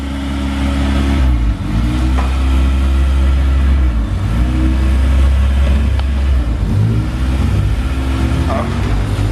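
A ninth-generation car being driven into a garage, its engine rumbling close and loud with slight revving, while people talk over it.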